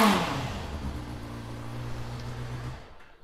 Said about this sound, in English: So we'll give it a quick start up.